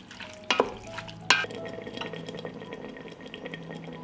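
Green beans and tomato frying in a pan with salt, two loud stirring scrapes early on, then a soft steady sizzle alone.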